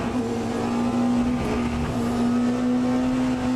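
A hypercar engine in the Le Mans Ultimate racing game drones steadily at high revs through a lap, loud and constant for the whole stretch, with no speech.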